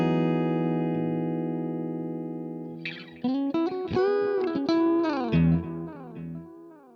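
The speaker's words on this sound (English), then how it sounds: "a really long delay time on the left and a really short delay time on the right" A sustained synth tone fades slowly, then a melodic phrase of plucked notes plays through a stereo delay, with a long delay time on one side and a short one on the other, under a wide, washy reverb tail.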